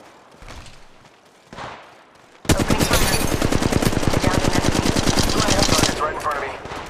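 Rapid automatic gunfire in Apex Legends bursts in loudly after a quiet stretch, a sustained fast stream of shots lasting several seconds before tapering off, with faint game sounds before it.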